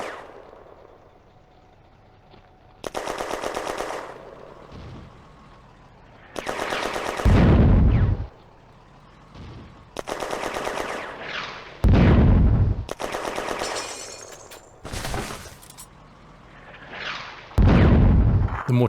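Hotchkiss machine gun fire in a WWII war video game set in June 1940 comes in repeated loud bursts of rapid shots, separated by quieter gaps, with heavy booming impacts among them.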